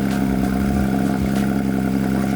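A Porsche 911 race car with a manual gearbox revs hard toward 9,000 RPM, a loud, close, steady high-pitched engine wail with a slight clatter and no voices.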